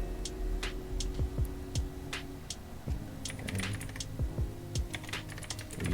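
Commands are typed on a computer keyboard while setting up MariaDB, producing quick irregular bursts of key clicks close by over a low steady hum.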